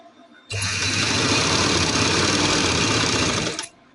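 A sewing machine stitches a designer open-button shirt in one steady, fast whirring run of about three seconds, starting abruptly and stopping cleanly, close and loud with no talk.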